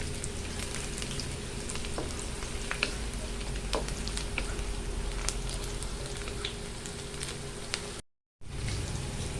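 Chopped garlic sizzles steadily in a hot pan at the start of a coconut mussel curry, with a continuous crackling fry and scattered small pops. The sound stays at an even level and is briefly cut to silence near the end.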